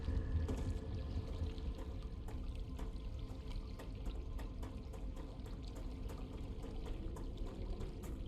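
Water pouring steadily in the video game StarRupture, a continuous broadband splashing flow with faint clicks on top, close and fairly loud throughout with no talk.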